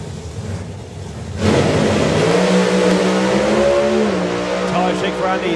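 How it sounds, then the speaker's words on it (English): A drag racing car launches hard down the strip with a sudden loud roar, its engine note climbing steadily as it pulls away, while a commentator talks over it. "Tyre shake for Andy, he's off the throttle"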